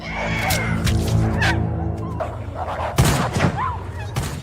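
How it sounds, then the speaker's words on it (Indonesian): Sharp gunshot cracks burst out over a dramatic musical backdrop, a few loud reports landing close together near the middle. "Kemudian terdengar suara tembakan."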